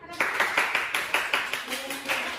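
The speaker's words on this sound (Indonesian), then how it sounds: "Ayo beri tepuk tangan" Classmates clap for a group presentation in a school classroom, a steady run of about a dozen sharp hand claps at close range, with faint talking in the background.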